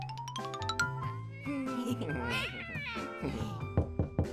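A cat meows several times over bright chiming music, the cries rising and falling in pitch.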